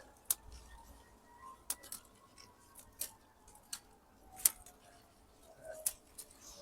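Scissors snipping through a Velcro garden tie while taking down tomato plants, a series of sharp separate clicks and snips at irregular intervals, close and fairly quiet, with no talking.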